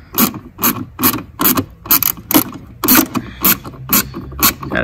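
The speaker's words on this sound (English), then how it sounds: "Gotta say, I love the 120 tooth ratchets from Gear Inch." A 120-tooth ratchet fitted with a 10 mm socket clicks in about ten quick, even bursts, each a sharp close fine-toothed ratcheting rasp separated by short pauses, with no talk.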